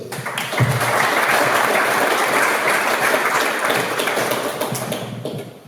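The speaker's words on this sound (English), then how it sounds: "a round of applause, please" A crowd at a meet-the-candidates evening for the Kaimai Ward and Bay of Plenty Regional Council breaks into loud, sustained applause. The dense clapping fills the room for several seconds, then tapers off at the end.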